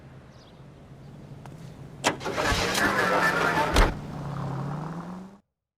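A car engine cranks and catches in the video game L.A. Noire, a sharp start followed by a rising, steady rumble before cutting off abruptly, with a brief voice beforehand.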